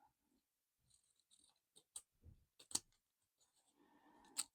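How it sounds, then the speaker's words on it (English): Zigzag scissors cut around the edge of a small paper stamp, giving faint, sparse snips and crisp paper clicks in a quiet room, one sharper snip near the end. "I'm going to cut around the edge"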